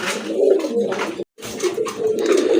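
Pigeons cooing in repeated low, throaty bursts, a colorful pair of orange-toned fancy pigeons, close and fairly loud, with a brief silent gap in the middle.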